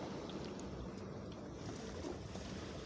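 A steady low engine drone with water noise, like a boat motoring nearby during fishing among rocks, continuous and even without any voices.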